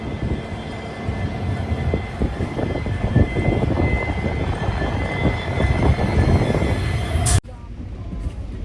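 Deep, rumbling clatter of a train pulling into Rajpura station, loud and close, with a low drone that cuts off abruptly near the end.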